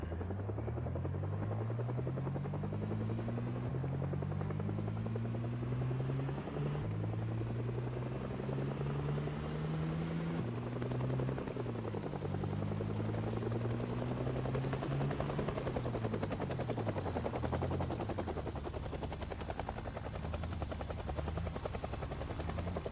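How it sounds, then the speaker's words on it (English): A helicopter in the Project Zomboid video game thrums overhead with a loud, continuous rotor beat whose pitch slowly rises and falls, no voices over it. "I think the helicopter sounds even more intense while you're driving"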